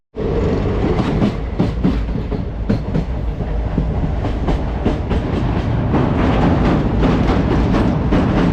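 Begampura Express train pulling away from Pathankot Cantt station, a steady loud rumble of carriages with rhythmic clickety-clack of wheels over rail joints throughout, heard from inside the train, no talking.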